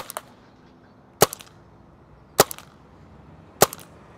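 A PepperBall FTC non-lethal launcher fires inert rounds at the ground, four sharp compressed-gas pops spaced about a second apart, close and loud against a quiet outdoor background.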